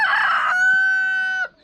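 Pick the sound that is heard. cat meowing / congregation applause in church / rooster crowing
rooster crowing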